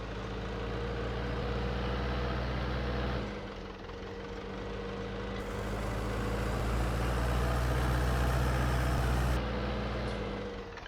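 A tractor engine idles with an odd sound in Farming Simulator 19, a steady low droning hum whose level shifts slightly a couple of times, with no talk.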